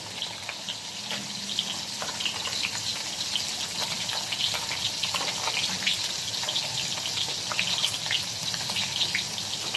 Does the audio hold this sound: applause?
no